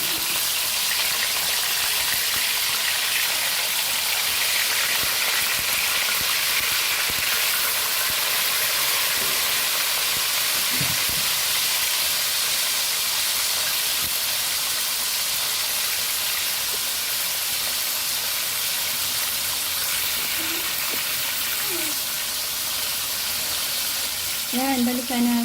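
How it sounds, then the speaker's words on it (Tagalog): Fish frying in hot oil makes a loud, continuous, close hiss and sizzle that holds for the whole stretch, with occasional soft pops and faint clatters near the end. "muna natin uminit ang mantika and then ilagay ang ating isda"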